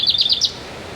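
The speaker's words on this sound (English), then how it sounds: "The birds are so happy today." A bird in a suburban garden in late May gives four quick, bright chirps in a rapid series, close and clear over a quiet background, with no talking.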